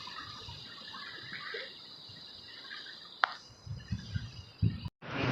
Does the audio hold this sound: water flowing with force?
yes